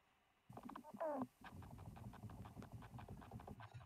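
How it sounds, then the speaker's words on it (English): A male leafhopper's vibrational courtship excitement signal plays as a rapid train of low buzzing pulses with a brief higher chirp near the start. It is close and continuous, with no voices. "which I call the excitement signal, because the male only emitted the moment the female answered"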